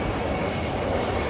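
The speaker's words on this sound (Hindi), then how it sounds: "सुखोई अभी आने वाले हैं ये ऊपर से जा रहे हैं" A Sukhoi military jet roars overhead during India's Republic Day parade, a loud, steady broadband rush of engine noise filling the whole moment without pause.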